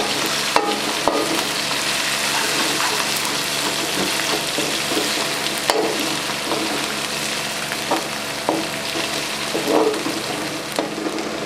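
Green chillies fry in hot oil, giving a steady close sizzle with scattered crackles and pops throughout.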